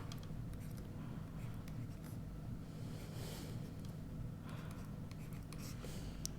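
Writing out a math solution on paper, faint scratchy pen strokes in short bursts over a steady low background hum, with no talking.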